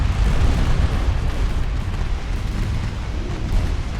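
A torpedo hit in the naval game Ultimate Admiral: Dreadnoughts produces a loud, sustained, rumbling explosion with heavy low boom and rolling noise, heard alone without talk.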